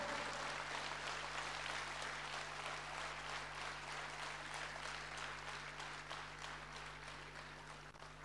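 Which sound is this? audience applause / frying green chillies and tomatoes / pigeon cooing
audience applause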